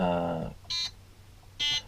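Two short electronic beeps from a LEGO-compatible 4.5-volt programmable brick, spaced about a second apart, following a brief voice at the start.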